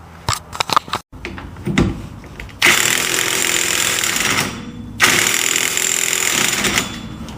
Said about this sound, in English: Okay, now for your 36 mil socket.